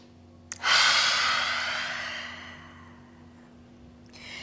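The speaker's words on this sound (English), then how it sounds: "Clearing breath in through the nose, out through the mouth" A single long, forceful exhale through the mouth follows a quick sniff-like inhale through the nose, a loud breathy rush that slowly fades over several seconds during a yoga flow.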